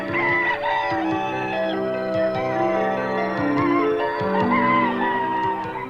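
Many laying hens in cages at an industrial poultry farm in Tomilino in 1988, a Belarus-9 cross, make a continuous, overlapping chorus of clucks and drawn-out calls at steady volume.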